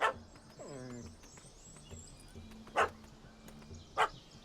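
A dog in The Witcher 3: Hearts of Stone barks in sharp, loud bursts, with a whining yelp early on and two more distinct barks spaced a second apart over a low ambient game hum.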